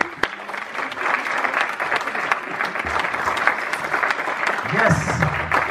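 Audience applause fills a conference hall at a geobiology and health talk, a dense steady wash of clapping lasting several seconds, with a few voices and cheers rising near the end.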